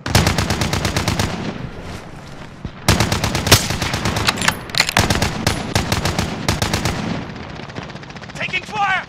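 Rapid automatic gunfire in Call of Duty: Modern Warfare, loud dense strings of shots in two long bursts separated by a brief lull, with a voice briefly heard near the end.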